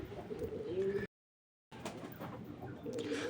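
Pigeons coo softly and close by in low, rolling calls, interrupted by a short dead-silent gap before the cooing resumes.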